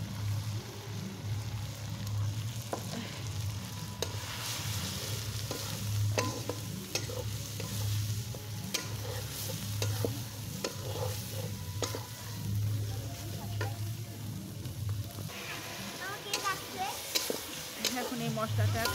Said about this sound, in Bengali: এখন এই মশলাটা খুব সুন্দর করে একটু কষিয়ে নিতে হবে